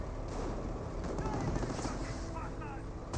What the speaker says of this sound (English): Oh, it's MG42.